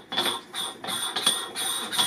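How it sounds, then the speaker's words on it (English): A dew shield screwed onto the end of a William Optics RedCat 51 telescope, heard close up as a repeated dry grinding, scraping thread noise in several short bursts with no talk. "Excuse the noise of the screwing"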